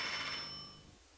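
A telephone bell rings in a single quiet, sustained burst that slowly fades away, heard alone with no voices.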